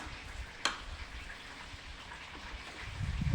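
Steady rain falling outdoors, a soft continuous patter and hiss with one sharp tap partway through and a low rumble swelling near the end, fairly quiet and without talk.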